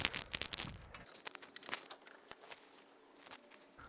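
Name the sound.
cutting the tails off cable ties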